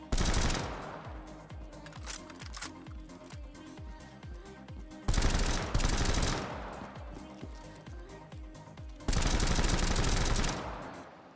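Custom BioShock Infinite weapon fires in Call of Duty Zombies in rapid bursts of loud, close shots, with heavy blasts recurring in three separate stretches and quieter repeated shots in between.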